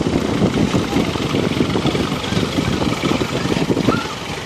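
A 1942 Farmall tractor engine idles steadily during a power parade, a low, rough chugging that holds close and even throughout with no talk over it.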